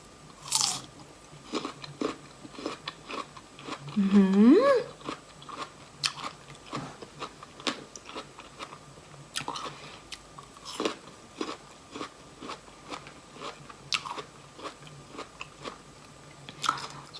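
Crunchy peeled persimmon being bitten and chewed close up, repeated crisp crunching bites and chewing sounds across the clip, with a brief hum from the eater partway through.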